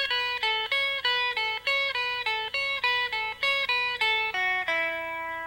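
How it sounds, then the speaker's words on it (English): A country guitar trick lick played on a single clean guitar, a quick repeating pattern of plucked notes stepping in a steady rhythm, close and clear with no talking, ending on a sustained note. "we can get a pretty nifty little country trick lick right here"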